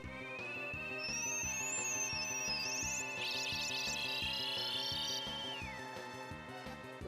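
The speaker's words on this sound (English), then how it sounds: "Someone's calling in the middle of a boss fight? Ignore the phone." A phone rings in the room during a Super Mario RPG boss fight, its electronic ringtone melody playing steadily and fairly quietly over a rhythmic musical backing, without speech.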